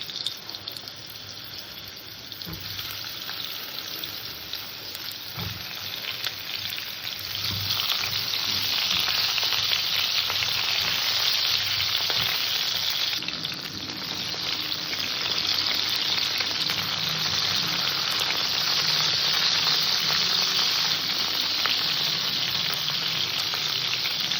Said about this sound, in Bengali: এই তেলের মধ্যেই কটা পটল ভেজে নেবো